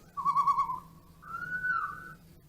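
A toy produces two smooth, whistled hoots in a row, the second slightly higher and longer, mimicking an owl against a quiet background hum.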